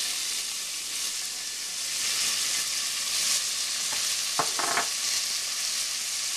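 Minced onion sizzles steadily in hot extra virgin olive oil in a soup pot, a bright, even hiss with a few quick utensil clacks toward the end.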